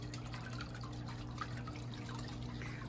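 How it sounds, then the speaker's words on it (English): A yard water feature trickles softly, a faint, steady patter of falling water over a low constant hum in the outdoor evening air. "So yet another water feature that's calming and relaxing."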